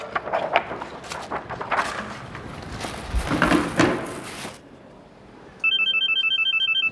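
A mobile phone ringtone sounds in a classroom during an exam, a repeating pulsed electronic melody that starts after a few seconds of shuffling and rustling.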